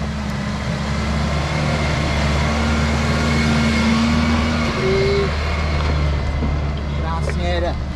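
Isuzu D-Max off-road vehicle labours up rough mountain terrain, its engine a steady loud drone with a rising whine, close to the microphone, with faint clinks near the end.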